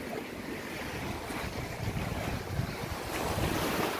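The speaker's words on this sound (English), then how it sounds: "You hear all that water and wind?" Ocean waves and gusting wind reach a small bridge on a beach at night. Surf washes continuously while wind buffets the microphone, fairly loud and close throughout, with no talking.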